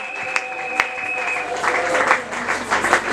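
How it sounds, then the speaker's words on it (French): A church congregation applauds and cheers during a tenth-anniversary and pastoral ordination service, a dense, steady wash of clapping with a few sharp claps and a sustained tone in the first half. "Pendant que j'invite l'apôtre Papi Kaloï, on peut célébrer Dieu par nos acclamations."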